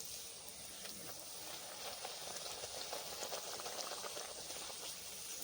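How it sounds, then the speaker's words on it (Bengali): Luchi, a fried flatbread made with mango, frying in hot oil, a steady close bubbling sizzle that holds at an even level throughout with no talk. "সবগুলো লুচি আমি এইভাবে ভেজে নেব"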